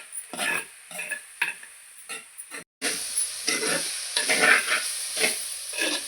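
Spinach and long bean thoran stirred in a dry pan with no water added, a spatula scraping in repeated short strokes over a soft, steady sizzle, close and fairly quiet, with no talking.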